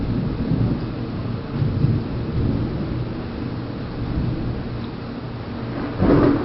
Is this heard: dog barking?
no